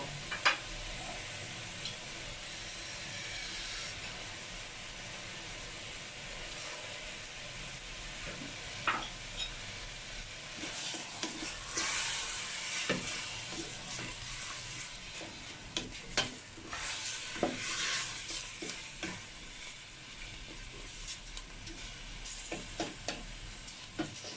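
Pork sizzles steadily in a pot as a little broth goes in for sinigang, a continuous frying hiss with scattered crackles and clicks, fairly close and moderately quiet.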